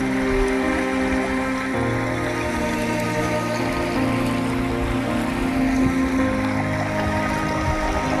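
Untreated sewage water from Bagalkot city pours into the Krishna river, a steady, close rushing and splashing that continues unbroken, with a low mechanical hum beneath and no talk.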